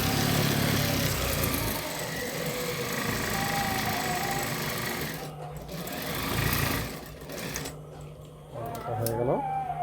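A sewing machine stitches a salwar seam with a loud, continuous mechanical whir that pauses briefly and resumes, close to the microphone, with faint talk near the end.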